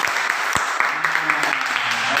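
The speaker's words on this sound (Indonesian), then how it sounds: "Oke, beri tepuk tangan." Students in a classroom give a round of applause, with scattered, uneven hand claps close by under a continuous murmur of voices.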